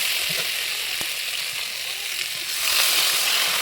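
Water goes into a hot pan of tangra fish curry and a steady, loud sizzle and fry crackle follows, swelling louder toward the end as the water hits the oil.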